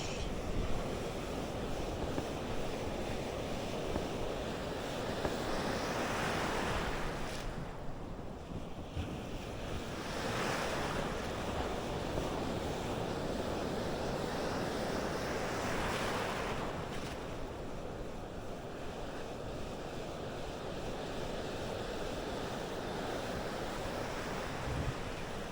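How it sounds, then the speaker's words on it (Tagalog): Big ocean surf pounds a beach ahead of Typhoon Uwan, a continuous loud roar of breaking waves with gusting wind buffeting the microphone and periodic swells rising through the half minute. "laki ng alon"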